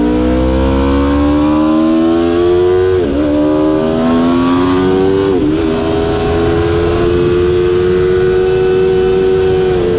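Engine of a 2019 Aprilia RSV4 1100 Factory superbike (217 hp) on track, loud and close, with rising revs climbing through gears and brief dips at shifts, continuous without speech.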